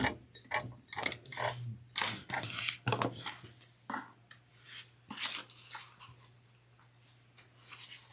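A sewing machine stitches a crossbody bag with back stitching, giving faint, irregular mechanical clicks and ratcheting bursts that start and pause, close by and quiet, with no talking.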